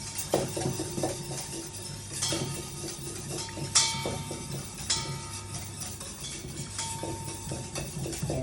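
A small whisk stirring olive oil into a dressing in a bowl, with quiet repeated metallic clinks and tapping against the side, close and soft, no talk.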